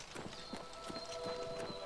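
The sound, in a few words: horse hooves clip-clop in Oblivion Remastered video game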